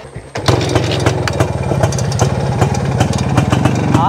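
A vintage Jawa Yezdi motorcycle engine fires up and keeps running with a steady, close two-stroke putter. It holds a fast, even rhythm throughout at a loud level.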